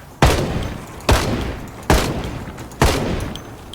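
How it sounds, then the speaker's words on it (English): Four loud rifle shots fired in Project Zomboid, evenly spaced less than a second apart, each a sharp blast with a short ringing tail. "I had started getting really good with the rifle"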